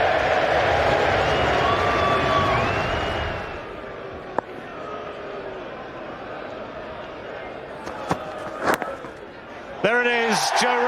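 A large Yorkshire crowd at Headingley roars for Joe Root's first Test century, a loud sustained cheer lasting a few seconds before fading into a murmur, with a voice speaking near the end.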